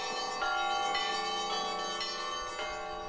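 Church bells ring out to summon worshippers to Sunday service in Russia, repeated resonant strikes roughly every half second, with long ringing overtones that overlap and linger.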